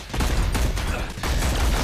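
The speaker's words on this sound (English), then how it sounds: "Laying down the gunfire." Rapid gunfire from the Marvel Super Hero Squad Online video game, a loud dense fusillade of shots with a brief dip near the middle before the barrage resumes.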